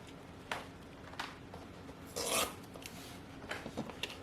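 A mini scraper scrapes along painted wood on a barn quilt, giving a few short close rasping strokes, the longest and loudest one near the middle, with quiet pauses in between.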